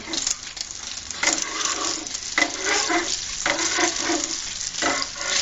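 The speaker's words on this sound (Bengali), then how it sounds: "এক পাশ বাদামি কালার হওয়ার পরে আমি আর এক পাশ উল্টিয়ে ভেজে নিব।" Eggs fry in a pan, giving a steady, loud sizzle and crackle. Brighter spurts of spattering recur every second or so as pieces are stirred and turned. No voices are heard.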